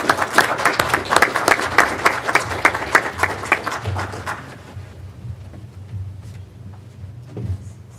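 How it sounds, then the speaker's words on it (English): Applause at a county commissioners' board meeting honoring Ellie Reynolds, a few seconds of dense clapping from a room of people that thins out and fades, leaving quiet room noise and scattered shuffles. "perhaps we have a round of applause for Miss Ellie Reynolds"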